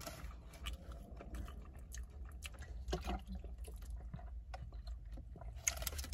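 Cheeseburgers are chewed during a timed eating challenge, giving faint, close, wet chewing and biting sounds with soft squelches throughout, no speech.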